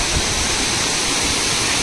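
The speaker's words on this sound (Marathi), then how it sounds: "आज ही लेवल आहे धबधब्याची" Savdav waterfall in the Konkan during monsoon roars as a steady, dense wash of falling water, loud and close, with no voices over it.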